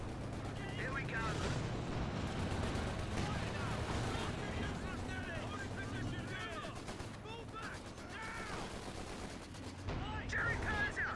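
German Panzer tank firing in Company of Heroes 2, heavy gunfire and blasts in dense rapid bursts throughout, with battlefield chatter and shouting voices over the combat din.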